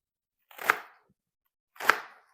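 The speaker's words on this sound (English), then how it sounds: "Then I just cut them in strips, and I try to keep it about a half inch" A knife slices through rolled collard greens on a cutting board, two separate crisp chopping strokes about a second apart, close and clear with silence between.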